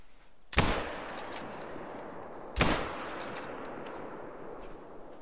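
Two sharp gunshots about two seconds apart, each with a long echoing tail, fired at a buck in the Revontuli Coast hunting video game over a quiet outdoor backdrop.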